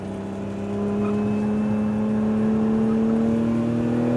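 A 2025 Lotus Emira sports car pulls hard on a race track, its engine note rising steadily in a strong, sustained whine and drone, close and loud with no talk.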